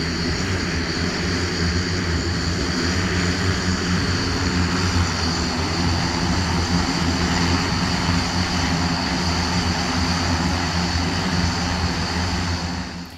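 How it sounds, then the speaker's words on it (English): A large manned quadcopter-style multirotor aircraft gives a loud, steady, continuous droning whir of rotors throughout, with no pauses and no talk. "have you ever thought about what it might be like to supersize a little UAV to the point that it may not need to be unmanned?"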